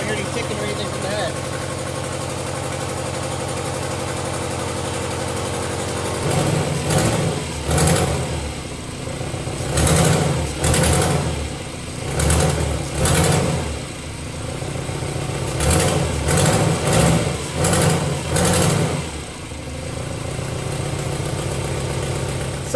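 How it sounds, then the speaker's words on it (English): A Subaru Impreza with an EJ22 SOHC engine and an exhaust leak idles with a raspy, rumbling drone, broken by several short throttle blips, while someone talks nearby. "We got the Subaru back up and running, and it sounds pretty good aside from the exhaust leak."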